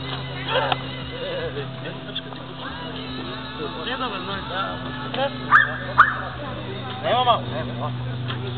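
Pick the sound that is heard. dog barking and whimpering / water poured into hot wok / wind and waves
dog barking and whimpering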